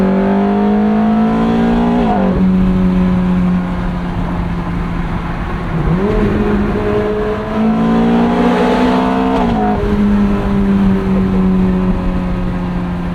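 A 2008 Ferrari F430 Spider V8 roars loudly from inside the car at sunset, holding high revs with rising pitch sweeps and a few quick shifts, the engine dominating throughout.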